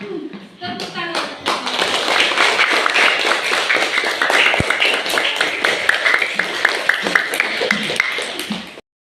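A small group claps hands together on cue, close by. The claps are sharp and rapid and mix with taps and thumps, with brief talk at the start and a sudden stop at the end.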